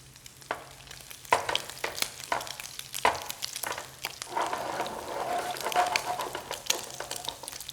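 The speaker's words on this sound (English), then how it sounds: "We'll saute them up like this, maybe 3 minutes on each side until they're nice and brown" Crab cakes sauté in a pan over medium-high heat, giving a soft, continuous sizzle broken by repeated scraping and tapping from a utensil, with a faint low hum underneath.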